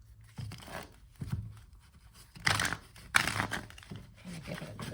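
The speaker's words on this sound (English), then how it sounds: "Let me give it a good shuffle here." A deck of tarot cards being shuffled by hand, several soft papery riffles and rustles in short bursts, close and quiet, with no talking.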